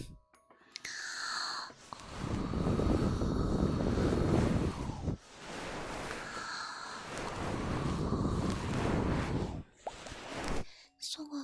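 An airplane gift animation in a livestream plays as two long, swelling jet-engine whooshes, each roaring for several seconds before cutting off. No voices are heard.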